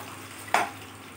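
Baby corn dropped into hot oil gives a single brief, close sizzle burst, alone in a quiet kitchen.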